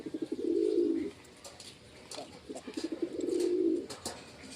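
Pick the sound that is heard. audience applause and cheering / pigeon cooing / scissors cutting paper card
pigeon cooing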